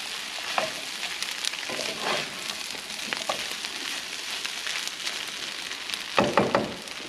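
An egg frying in a pan gives a steady, close sizzle and crackle throughout, with small pops and a few light scraping or stirring touches, and no voices.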